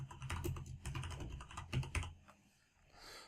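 Rapid, close typing on a computer keyboard, a dense run of key clacks that thins into a few last strokes before trailing off.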